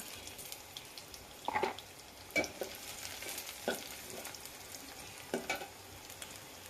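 Bay leaf, dried chilli and garam masala fry in oil for a duck curry, a quiet steady sizzle broken by a few sharp spoon taps and stirring scrapes.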